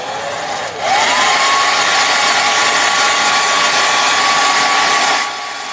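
A hair dryer used on an artwork during a timed landscape painting challenge blows loud and close, with a steady whirring roar that switches on near the start and cuts off near the end.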